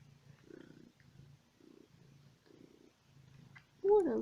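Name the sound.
cat purring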